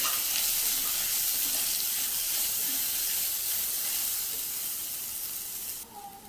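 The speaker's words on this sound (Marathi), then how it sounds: "आता ह्यामध्ये मी कांदा घालते आणि कांदा मऊ होईपर्यंत शिजवून घेते" Onion fries in a pan with garlic, producing a steady soft sizzle and hiss that fades a little near the end, heard alone without talk.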